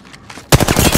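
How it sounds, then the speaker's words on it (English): Loud automatic gunfire erupts halfway through a match of the video game Apex Legends, a rapid burst of shots following a quieter stretch of faint game sounds. "The enemies are shooting at me."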